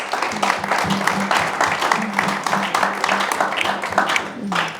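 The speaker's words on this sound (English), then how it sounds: "A big round of applause." An audience applauds at an Intel Forum talk by a speaker, a lively patter of clapping from the room that carries on under a voice speaking over it.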